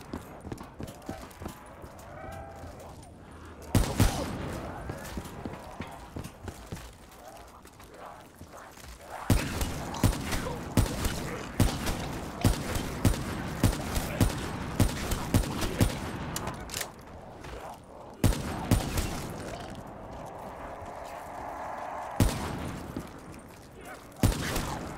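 Rapid gunfire in Call of Duty Black Ops 3 zombies mode, heard as repeated sharp bursts at moderate loudness, with a voice talking over parts of it.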